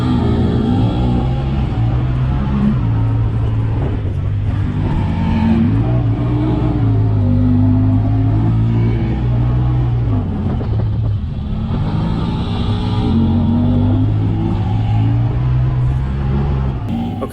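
A Can-Am Maverick Sport XRC side-by-side drives along a trail, its engine droning loud and steady throughout with mild swells in revs and continuous road rumble.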